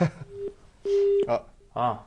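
Telephone busy signal on a call-in line after the caller hangs up, steady tone bursts alternating with gaps, with a person talking briefly around them.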